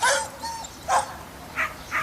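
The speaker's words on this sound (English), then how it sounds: "The other 2 dogs started barking a little bit and whimpering" Several dogs at a remote cabin giving a few short, fairly faint barks and yips, spaced out in four brief bursts with soft whimpering between them.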